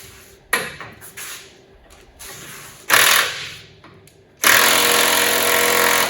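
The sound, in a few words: impact wrench loosening a bolt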